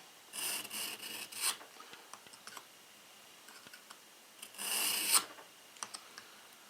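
Kitchen knife being sharpened on a Smith's knife sharpener: a cluster of short raspy strokes, then scattered light ticks and taps, then another longer grinding pass, all close and moderately loud.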